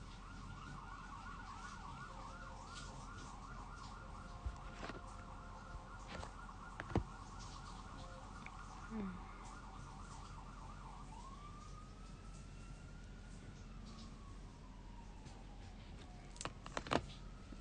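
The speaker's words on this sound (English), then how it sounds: "There's sirens going off." Emergency vehicle sirens sound from a distance, faint and wailing in repeated cycles, then sliding into a longer sweeping tone, with scattered small knocks nearby.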